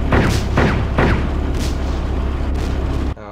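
A rocket launcher fires at a tank turret in the military game Arma. Several heavy booming blasts roll out, and a deep rumbling wash fills the gaps between them before it cuts off abruptly.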